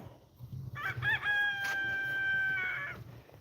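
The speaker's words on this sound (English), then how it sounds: "We've got a young cockerel crowing over there." A young rooster crows once, a clear, slightly strained cock-a-doodle-doo rising and holding before trailing off, fairly close over faint background noise.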